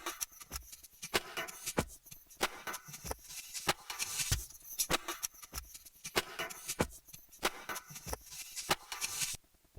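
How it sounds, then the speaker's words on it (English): Snare hits played from a keyboard into a looper over a dense, full guitar-driven loop from a song arrangement, with sharp hits recurring through the busy, fairly quiet mix. "pressing what I'm calling key 4 2 times to add extra snare sounds"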